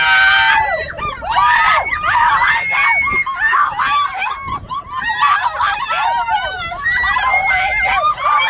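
Many riders shriek and scream continuously on the spinning Pixar Pal-A-Round wheel at Disneyland, a dense chorus of high wavering voices with some laughter, loud and sustained across the whole stretch.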